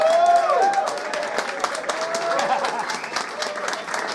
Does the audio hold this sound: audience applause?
yes